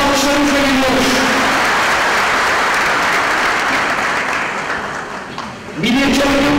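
A crowd at a provincial party congress in Elazığ applauds loudly and steadily, a thick continuous roar of clapping with an amplified voice heard over it, dipping briefly before the announcer's voice returns.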